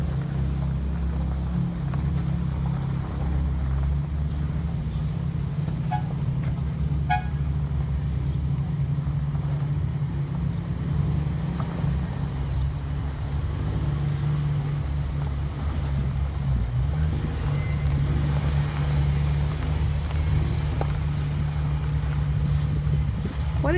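Idling and rumbling engines of Ferrari cars at a Ferrari convention in Crepon, a steady low drone that holds throughout with a few faint clicks and knocks on top.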